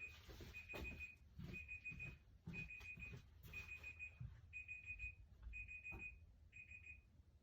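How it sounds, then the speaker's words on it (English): A timer alarm repeats a shrill electronic beep in quick bursts, loud and insistent, with soft handling noises beneath it in a painting studio. "Let me turn off that annoying timer."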